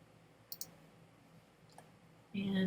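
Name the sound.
mouse click on Camera button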